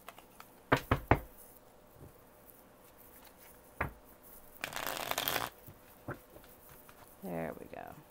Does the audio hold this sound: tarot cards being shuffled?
yes